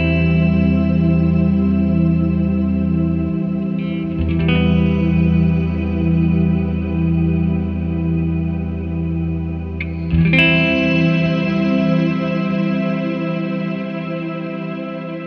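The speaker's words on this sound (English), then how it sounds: "when you turn the time knob up at max, you get this infinite ocean swell of reverb" A shimmer reverb pedal with its time knob turned to maximum sustains a long, ringing guitar swell with bright upper harmonics. It drones loudly and steadily, and fresh strums at about four and ten seconds bloom back into the wash.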